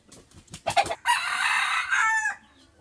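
A bantam rooster crows once, a long strained cry close by, preceded by a few short clucks and rustling sounds.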